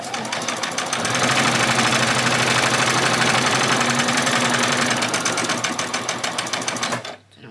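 A sewing machine stitching fabric ruffles for a spring outfit runs loud and close in a steady, rapid mechanical rhythm for several seconds before stopping abruptly near the end.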